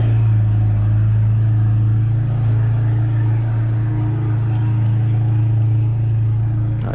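A VW MK7 GTI fitted with a Mamba GTX3071R turbo drones with a loud, steady low engine rumble from inside the car, holding a fairly even pitch throughout.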